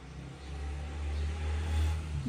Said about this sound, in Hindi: कभी बाइक आ रही है, कभी बाइक जा रही है